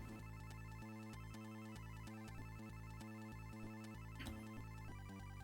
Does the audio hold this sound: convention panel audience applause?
no